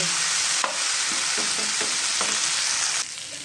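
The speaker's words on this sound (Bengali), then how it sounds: "এটা দিয়ে হালকাভাবে নাড়িয়ে দেবো" Mustard paste and green chilli are stirred gently in a hot pan for a hilsa curry with coconut milk, a steady sizzle with soft scraping strokes of a spoon against the pan throughout.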